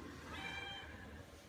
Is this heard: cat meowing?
yes